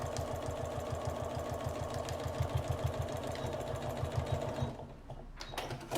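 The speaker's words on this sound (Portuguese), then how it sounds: "E vou terminar a costura." A sewing machine stitches a seam in fabric for a lingerie pouch, running with a steady fast mechanical chatter up close before slowing and stopping, followed by a few handling clicks.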